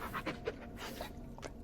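Rapid, close panting from a dog in the Blair Witch video game, a steady series of short breathy huffs with no talking over it.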